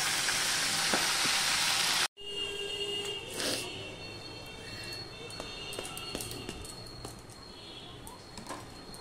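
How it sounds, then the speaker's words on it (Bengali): Spinach hitting hot oil with sesame, garlic and chili in a pan: a loud burst of sizzling, then a steady, quieter frying hiss with light stirring clicks, close up and without talk. "এবার দিয়ে দিচ্ছি পালং শাকগুলো।"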